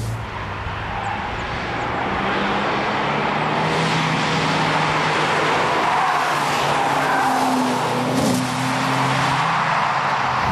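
An Opel Insignia speeds along a test track. A steady roaring engine and rushing road noise hold at a high level, with rising engine tones and some tire noise. It is close and continuous, with no talking.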